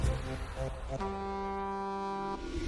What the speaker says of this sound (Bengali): হর্ন তো শুনেছো? মিটিং এর জন্য এদিকে এসো।